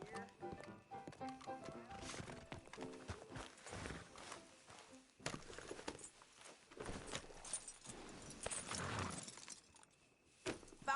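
Horse hooves clop steadily at a walking pace in Red Dead Redemption 2 on PS5, with a whinny and other background game sounds mixed in.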